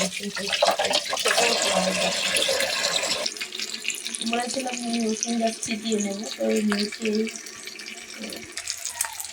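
Tap water runs into a kitchen sink basin during cleanup while dal and cabbage are being cooked, a steady splashing flow that shifts partway through, with clatter of dishes mixed in.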